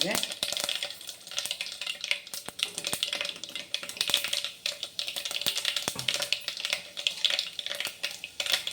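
Fenugreek seeds dropped into hot oil with already popped mustard seeds while making pepper kuzhambu, a steady close sizzle full of sharp crackles and pops, with a voice now and then.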